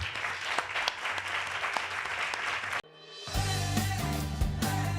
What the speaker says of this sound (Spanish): despidiéndole con el aplauso que merece